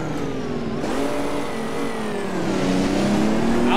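A Toyota Coaster minibus engine revs hard and accelerates at speed on a highway, loud and close with rising engine tones and steady road noise throughout.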